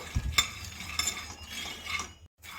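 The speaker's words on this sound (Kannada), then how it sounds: "ಶೇಂಗಾ ಬೀಜ ಚೆನ್ನಾಗಿ ಫ್ರೈ ಆಗಿದೆ" Peanuts dry-roasting in a pan as they are stirred, giving a few scraping, clinking strokes of the spoon with a faint rattle of nuts between them, close and moderately quiet, with a brief silent gap near the end.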